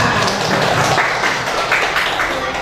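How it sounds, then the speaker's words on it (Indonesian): An audience at a teachers' training session gives a brief round of scattered hand clapping, fairly loud and close and lasting only a few seconds. "kita tepuk tangan dulu nih kita semua"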